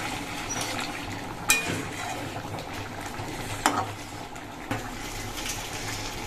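Fish roe simmering in potato curry gravy, a soft bubbling and stirring texture with a few sharp utensil clinks scattered through, fairly quiet and steady.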